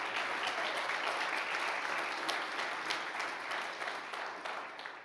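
A church congregation claps steadily and loudly for several seconds, a dense wash of applause that fades slightly toward the end.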